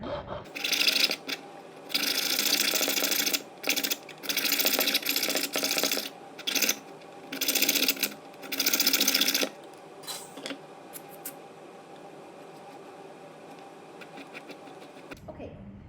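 A silver bezel ring's outer edge being worked with a file and sandpaper, heard as bursts of harsh, rapid rasping separated by short pauses, then a quieter stretch of faint scratches and a low background hum.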